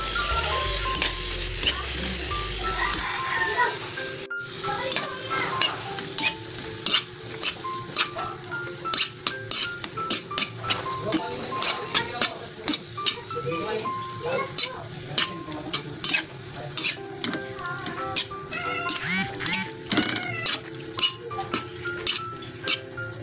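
A spoon scrapes and clinks steadily against a pan while a pork relleno mixture sizzles and fries underneath, with a voice briefly heard.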